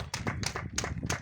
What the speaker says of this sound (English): A round of applause for the school